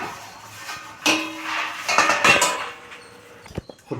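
Metal clatter of a lid set onto a pot of Hyderabadi-style paneer dum biryani, a couple of sharp clanks with smaller knocks and scrapes around them, close and fairly loud with no talking.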